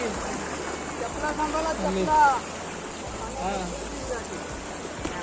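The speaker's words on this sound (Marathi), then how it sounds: "हा पाण्याचा लोड बघा किती आणि आम्ही आलो पाण्याच्या आतमध्ये रस्ता क्रॉस करतो" Rainwater stream rushing across a rural road, a steady broad wash of flowing water close by, with people talking over it throughout.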